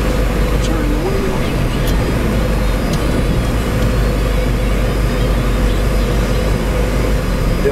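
A 1989 Alfa Romeo Graduate Spider reversing slowly, with a steady low engine drone and broadband road rumble running without a break throughout, close and fairly loud.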